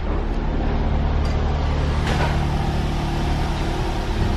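A VW Golf R idles with its newly fitted exhaust system, giving a steady low rumble close to the listener. It is unbroken and alone, with no talking.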